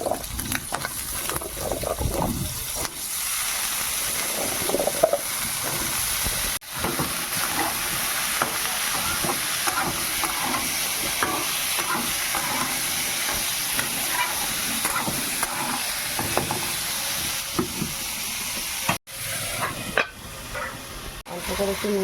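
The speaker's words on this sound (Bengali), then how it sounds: "তার মধ্যেই আমি আলুগুলো ভেজে নেব" Potatoes fry in oil in a pan right after fried snails, a steady close sizzle and hiss running throughout with occasional stirring scrapes and brief talk.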